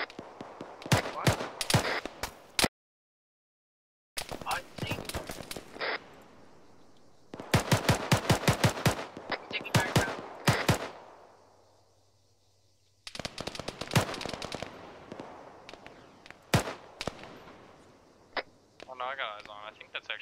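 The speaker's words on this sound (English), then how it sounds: "Actually small arms fire." Small arms gunfire in the video game Arma 3, with repeated rapid bursts of automatic shots, some loud and near and others more distant, broken by brief pauses, while voices talk over radio chatter.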